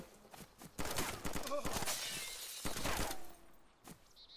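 Gunfire in the multiplayer survival game DayZ: several sharp cracking shots in bursts across a few seconds, loud and close, with players talking excitedly in between.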